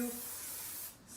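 A short, steady hiss of hair spray from an aerosol can, close by and soft, lasting about a second.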